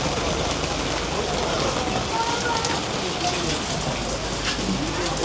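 Steady rain falls during a vacation day in Zanzibar, a dense continuous hiss of drops on surfaces with no pauses, fairly loud and close throughout.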